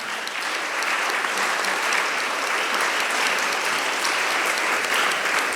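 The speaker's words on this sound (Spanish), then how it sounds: "Reiteramos el aplauso a este excelente panel." Sustained applause from an audience honoring a panel at a discussion event, steady and dense clapping from many hands throughout with no voices standing out.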